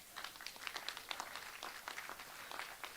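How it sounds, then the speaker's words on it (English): An audience at an international cross-innovation conference claps together, a soft, distant patter of many hands that keeps going throughout. "Give yourself a round of applause for making it back."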